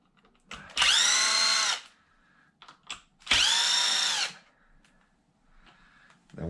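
A power drill or impact driver backs a bolt out of a Traxxas XRT RC truck in two loud, close whirring bursts about a second each, separated by quiet handling clicks, with no talking.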